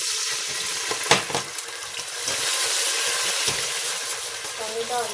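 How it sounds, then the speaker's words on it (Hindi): Water poured into a hot pan of moong dal khichdi sets off a steady broadband sizzle and bubbling hiss that holds for the whole stretch, with brief stirring knocks early on. "पानी डाल दीजिए"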